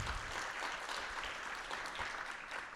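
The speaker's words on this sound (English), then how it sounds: "give yourselves a round of applause for that" An audience at a college liberal arts awards ceremony claps in a sustained, faint wash of applause heard from afar in a large hall.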